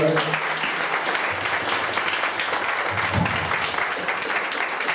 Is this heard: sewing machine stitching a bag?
no